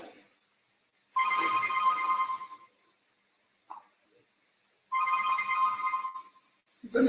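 A mobile phone ringtone sounds during a lecture, playing two separate bursts of about one and a half seconds each with a melodic tone, with silence in between and brief room noises around it.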